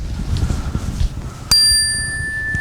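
A single bright bell strike rings out at a mindfulness talk, a clear ding that lingers and slowly decays after a stretch of quiet room noise.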